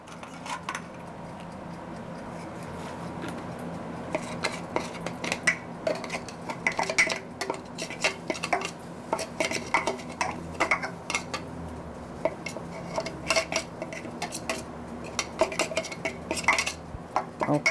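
Finely ground walnuts go into a pot and are stirred with a utensil, making repeated metallic scrapes and clinks against the pot, close and fairly steady, with no voices.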